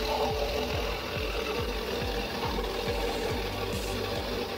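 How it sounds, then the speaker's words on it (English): A giant forestry machine processing logs into small pieces runs with a steady, loud mechanical drone and regular rhythmic knocking pulses repeating about twice a second, with no voices. "this giant machine processes logs into small pieces in a short time"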